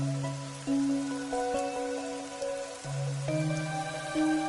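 Rain falls in the video game Raincode as a constant hiss sitting beneath sustained musical chords and melody lines, with no voices.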